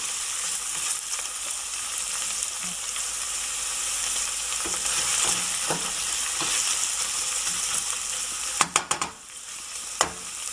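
Onions frying in a pan for paya soup give off a steady, loud sizzle throughout, with a few sharp clinks of a utensil against the pan near the end.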